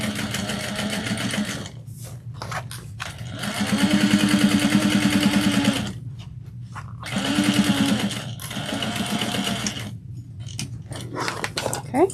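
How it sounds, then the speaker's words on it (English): A sewing machine top stitches a tote bag opening closed with an eighth-inch seam allowance and back stitches, running in two long steady bursts with shorter stops and starts between them, close and alone. "I'm going to top stitch that opening close using a 1/8 of an inch seam allowance"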